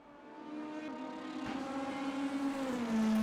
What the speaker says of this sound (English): That is an odd downshift noise.